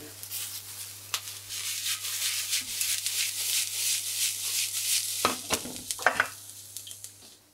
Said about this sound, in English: Light bit of colour on the stir fry.